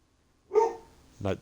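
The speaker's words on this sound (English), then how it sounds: "I also apologize for the dog." A single dog gives two short barks indoors, close by, separated by a brief pause.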